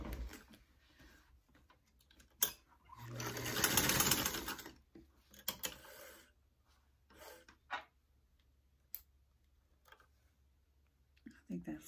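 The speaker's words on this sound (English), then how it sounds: "now I'm gonna top stitch again. I'm gonna lengthen my stitch a little bit more." A vintage Singer sewing machine top stitching vinyl runs in one short burst of rapid, close mechanical whirring and stitching, surrounded by scattered clicks and handling noises in a quiet room.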